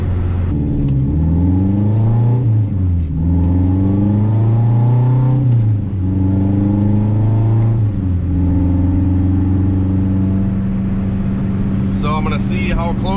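A 500 HP turbocharged K24 car on a street pulls hard, its engine note rising in repeated climbing sweeps through the gears, loud and close, with a short spell of speech near the end.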